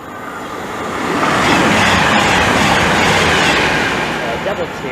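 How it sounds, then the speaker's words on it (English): London Euston to Birmingham New Street train on the West Coast Main Line at Hemel Hempstead, rushing past with a loud, broad roar that swells, holds for several seconds and eases off slightly. "oh, here is a London northbound service"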